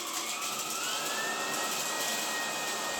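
A Dreame R20 cordless stick vacuum cleaner with a soft roller brush runs on a hard floor. It gives a loud, steady, high whine whose pitch rises slightly, continuous and close throughout.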